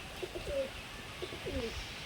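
Golden pigeons of a breed brought from Surat coo in a few soft, low, rounded calls spread across two seconds, fairly close against a quiet background.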